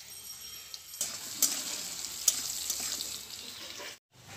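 Potato pieces seasoned with salt and turmeric frying in oil in a pan: a quiet, hissing sizzle that swells after the first second, with a few sharp crackles and pops, then cuts off abruptly near the end.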